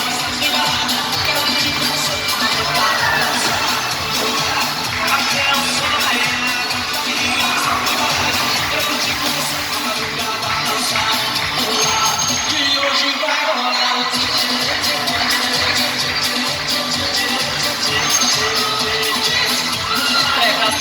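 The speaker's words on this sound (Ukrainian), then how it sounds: "вітайте та гучно аплодуйте нашим артистам" Crowd at a dolphinarium show cheering and applauding continuously, a dense loud wash of claps, shouts and children's voices in an enclosed arena, with some talk mixed in.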